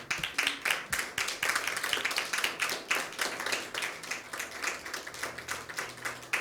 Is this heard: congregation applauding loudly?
yes